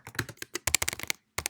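Quick bursts of typing on a computer keyboard while entering C++ code, close and crisp, with a short pause before a final few keystrokes.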